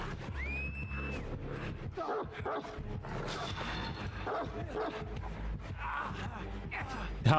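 Dog barking inside the horror game Dead by Daylight, a few short yips rising out of a dense, steady mix of game music and effects, with a voice talking over it.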